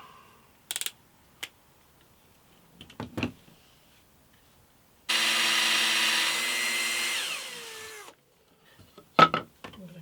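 A power drill drives a single screw into a clamped piece of wood, one steady whirring burst lasting about three seconds and winding down, framed by scattered clicks and knocks from handling.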